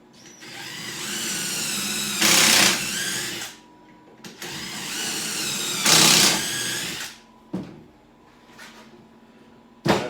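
Cordless drill boring pocket holes in wood for a base cabinet, two long whirring runs that rise in pitch as the bit bites in, close and loud, followed by short clicks and bumps of handling.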